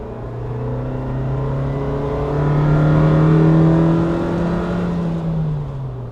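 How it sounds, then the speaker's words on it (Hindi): Suzuki Jimny engine with a tweaked intake held at full throttle inside the cabin, a loud, steady droning rev that swells and slowly falls away, with no voices over it. "मेरे को ना आवाज़ काफ़ी अच्छी आती है जब मैं थ्रॉटल फ्लोर करता हूँ, क्योंकि मैंने इनटेक को थोड़ा ट्वीक किया हुआ है।"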